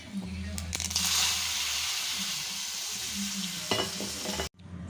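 Hot oil tempering of mustard seeds, chilli and curry leaves is poured into sambar, giving a loud close sizzle with stirring that fades, then cuts off abruptly; a voice speaks briefly.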